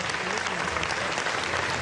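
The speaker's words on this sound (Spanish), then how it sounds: "un aplauso a la embajadora" An audience at a solidarity event for Gaza claps steadily in a dense wash of applause for the Palestinian ambassador. A voice speaks faintly under it.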